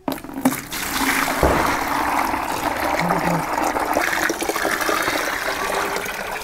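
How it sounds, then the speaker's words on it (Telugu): Five litres of water pour steadily into an empty bucket during natural-farming seed treatment for bitter gourd, a continuous close gushing splash that holds at an even level for several seconds. "మొదటగా ఈ 5 లీటర్ల నీటిని ఖాళీ బకెట్లో పోసుకోవాలను."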